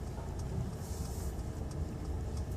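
A Mercedes-Benz C180 Avantgarde with automatic transmission pulling away from a stop: a low, smooth engine hum and road rumble heard from inside the cabin, steady and moderate, with no talk.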